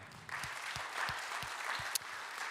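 Audience applause for a nominee at an awards ceremony, the Trophées Patrimonia: steady clapping from a seated crowd that swells in after a brief pause and holds evenly, with one sharper clap standing out near the end.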